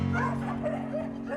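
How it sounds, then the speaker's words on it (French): Rescue dogs, many of them young puppies, bark, yip and whimper close by in a transport vehicle carrying about 25 dogs, over a steady low engine hum. "On a un voyage aujourd'hui de 25 chiens."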